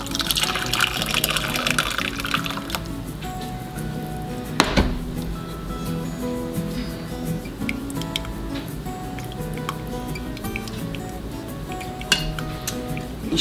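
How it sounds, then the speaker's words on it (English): Butternut squash soup pours and trickles through a strainer into a bowl with metal clinks and utensil clatter, a steady wet splash running throughout at close range. "I'm just gonna simply pour my soup in."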